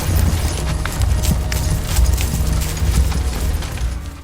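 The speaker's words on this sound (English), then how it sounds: "All those richly layered sounds, the waving grass, the bouncing armor, the pounding rhythm of horses' hooves, are typically the work of Foley artists." Foley work for a knight riding a horse: pounding hoofbeats in a fairly steady rhythm mixed with rattling, bouncing armor, close and fairly loud, with low thuds throughout.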